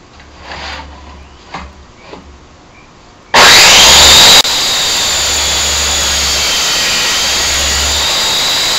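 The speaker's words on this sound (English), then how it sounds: "I'm going to go ahead and make a couple of cuts here, getting the rails for our crosscut sled." Power saw spinning up and cutting wooden rails for a crosscut sled in a home workshop, a sudden loud burst of cutting noise followed by a steady running roar after quieter handling sounds.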